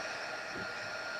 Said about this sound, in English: Is my dryer too loud?